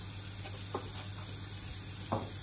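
Onions fry in a pan with a steady close sizzle and occasional soft stirring scrapes.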